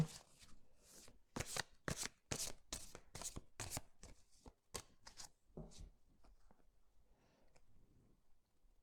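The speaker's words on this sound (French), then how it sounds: "on va tirer 5 cartes les amis avec le tarot là pour commencer" Tarot cards are shuffled in a quick series of sharp riffling bursts, then drawn and laid down with softer slides and taps as the pace slows, close and crisp with no talking.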